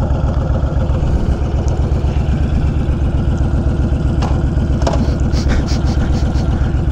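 A 2020 Honda Fury motorcycle engine idles steadily and close by, a dense low rumble with a regular pulsing beat throughout, and a few brief metallic ticks and clicks sit on top of it.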